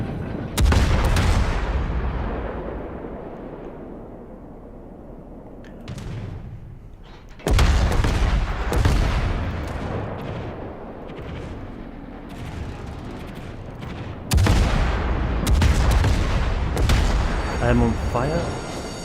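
Naval guns firing in World of Warships, three huge booming salvos spaced several seconds apart, each with a long rumbling decay and smaller shots between them, with a voice talking over them.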